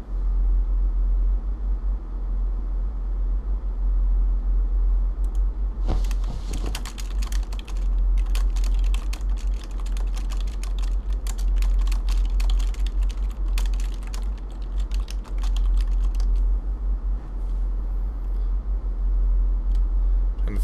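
Rapid, irregular computer keyboard typing during Space Station 13 play, a clattering run of key clicks that starts after a few quiet seconds and continues over a constant low hum.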